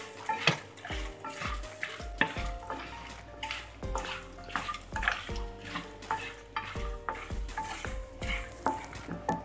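Coconut and chana dal frying in a pan for poha chivda, a steady close sizzle broken by repeated scraping and stirring strokes of a spoon throughout.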